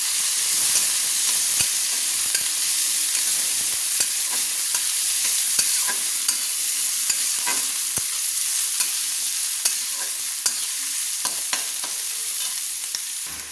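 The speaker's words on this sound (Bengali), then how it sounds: "তুলে দিচ্ছি কুচিয়ে রাখা কাঁচা লঙ্কা। দিয়ে আবার ভালো করে আমি নেড়ে নিচ্ছি।" Vegetables and chopped green chillies stir-fry for chicken chow mein, a loud steady sizzle with repeated scraping and clinking of a spatula against the pan, close and without talk.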